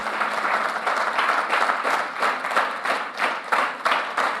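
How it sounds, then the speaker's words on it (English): Warm applause from a large audience at an Amway India leadership summit, a brisk, steady wash of clapping with slight rhythmic pulsing, lasting throughout. "So please give a big round of applause."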